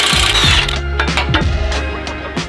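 A ratchet works a bolt loose from the differential bracket of a Ford Bronco during a lift install, giving close, quick metallic clicking bursts with some clanks, and no talking.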